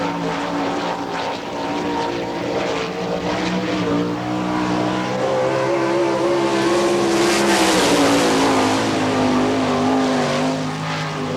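A sprint car from the All Star Circuit of Champions tears around the Hartford, Ohio oval on a qualifying lap, its engine a loud, steady high-revving roar that rises and shifts pitch as it passes nearby.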